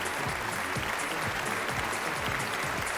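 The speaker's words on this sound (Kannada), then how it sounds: "ಜೋರು ಚಪ್ಪಾಳೆ ಬರಲಿ." An audience at a business award ceremony bursts into loud, dense applause that holds steady from start to finish, with many hands clapping at once and no pause.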